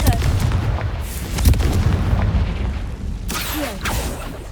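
Booming Confringo spell explosions in the video game Hogwarts Legacy burst out in rapid succession, loud and rumbling, over dense continuous combat noise.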